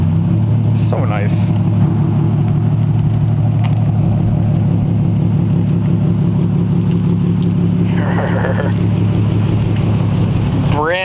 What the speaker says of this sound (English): now we're gonna burn it out.